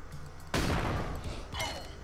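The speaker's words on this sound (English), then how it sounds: "Maybe I should fire the shotgun in the right direction." A single loud video-game shotgun blast cracks out after a brief quiet, its roar decaying over a second before a smaller echoing burst follows.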